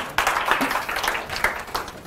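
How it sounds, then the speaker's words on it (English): A small audience at a PHP user group meetup in Singapore gives brief, sparse applause, a few scattered claps in a short, soft burst. "You give a round of applause, right?"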